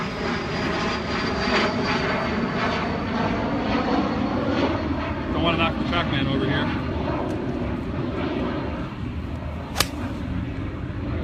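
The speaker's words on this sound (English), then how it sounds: "Airplane." An airplane passes overhead at a golf driving range, its broad engine roar steady and loud for the whole stretch while someone talks over it and a club strikes a ball near the end.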